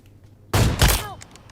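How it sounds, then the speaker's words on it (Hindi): Gunfire in a shooter video game, where a loud, abrupt burst of shots erupts after a near-silent moment and then trails off with ringing echoes. "एकदम एक टाइम पे हम दोनों ने गोली चलाई"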